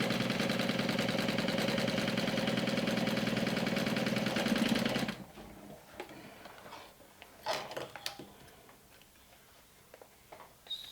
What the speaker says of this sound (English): We're going to sew right sides together at the top and at the bottom